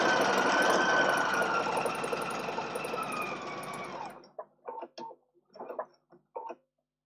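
A domestic sewing machine fitted with a quarter-inch presser foot runs a steady, loud stitching whir for about four seconds while piecing a quilt block, then stops, followed by several short, quieter stitching bursts with no talking.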